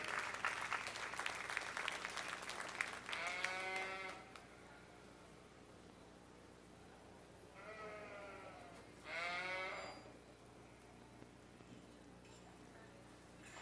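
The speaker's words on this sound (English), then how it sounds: "Let's give these intermediate showmen a big round of applause." Applause for intermediate showmen at a junior fair sheep show, a short burst of crowd clapping up front, then repeated loud sheep bleats in the quiet barn over faint background murmur.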